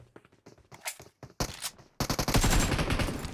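Rapid bursts of Uzi submachine-gun fire in the battle royale game PUBG, sharp repeated cracks building into a loud sustained volley after scattered quieter shots.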